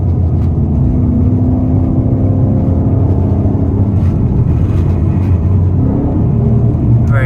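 A Ford Mustang GT engine revs high after a paddle-shift downshift, a steady loud rumble with rising tone throughout, heard from inside the car with no talk.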